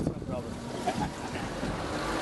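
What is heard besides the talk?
ocean waves at a glass bottom boat tour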